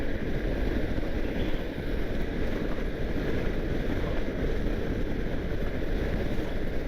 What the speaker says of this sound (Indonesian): Anginnya gede bener.